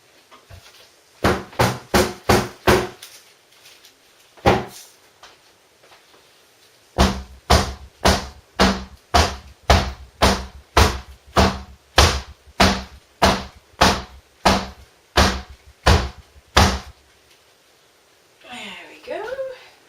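Repeated sharp bangs of a soap mould being knocked to settle freshly poured cold-process soap, two quick bursts of evenly spaced loud thuds with a pause between, followed by faint rustling.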